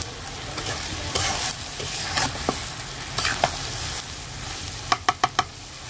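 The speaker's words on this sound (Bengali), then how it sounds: "শুধু এখন একটু নাড়াচাড়া করলেই তো রান্না শুরু হয়ে যাবে।" Tripe cooks in a pan on the stove while a spatula stirs it with repeated scraping strokes over a loud sizzle, ending in four quick metallic taps against the pan; nobody speaks.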